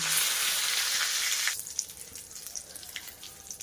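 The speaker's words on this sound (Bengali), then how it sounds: "তেল গরম হয়ে গেছে, শুকনো লঙ্কা, তেজপাতা, গোটা জিরে আর গোটা গরম মশলা ফোড়ন দেব" Dry chilli, bay leaf, whole cumin and whole garam masala hitting hot oil: a loud hissing burst for about a second and a half, then settling into a quieter crackling sizzle with scattered pops, no talk.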